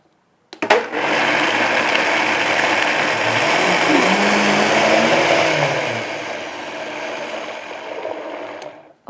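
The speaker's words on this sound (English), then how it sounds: "So I'm just going to blend this up." Electric blender whirring steadily as it purees red beans for a vegan red bean potong ice cream, a loud continuous motor drone starting abruptly and running about eight seconds before cutting off.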